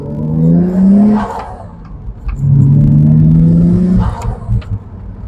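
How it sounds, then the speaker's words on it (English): A car's engine revs up loudly and close as it accelerates to 60 km/h while its brakes are being bedded in, the pitch climbing in two rising surges with a brief dip between them. "Getting the vehicle up to 60."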